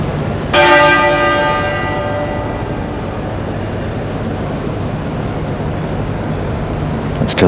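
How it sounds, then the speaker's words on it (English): A single church bell strikes once over London during Princess Diana's 1997 funeral, a loud, clear toll that rings out and slowly fades into the steady murmur of the outdoor crowd and street. "And still the single bell tolls over London."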